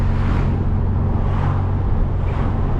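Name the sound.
Ferrari 296 V6 engine sound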